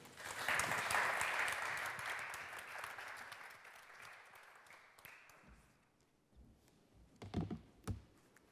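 Audience applause at a francophone panel, a dense burst of clapping that swells quickly and then fades over several seconds, followed by a few scattered knocks and taps.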